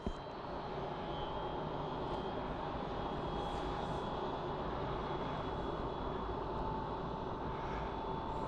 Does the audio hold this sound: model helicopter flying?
yes